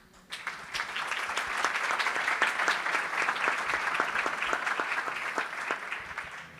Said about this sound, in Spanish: Más que merecido el aplauso